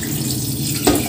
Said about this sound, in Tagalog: lagyan muna natin to ng kalahating tubig na galing sa gripo